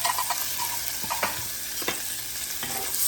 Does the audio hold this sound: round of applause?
no